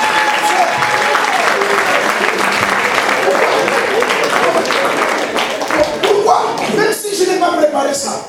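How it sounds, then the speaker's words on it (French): A church congregation at an evening sermon breaks into loud, sustained applause acclaiming the Lord, dense clapping filling the room with voices and shouts mixed in throughout. "Est-ce qu'on peut acclamer le Seigneur?"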